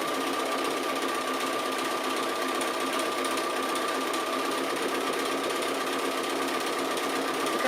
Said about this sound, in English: I'm just doing the stitching.